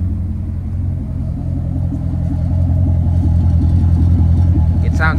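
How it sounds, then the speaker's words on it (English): A 2006 Chevrolet Corvette with a GM V8 idles in a steady, deep low rumble, loud and close and continuous throughout, with a brief higher mechanical whir near the end. "I'll take you back there and we'll listen to the rumble real quick."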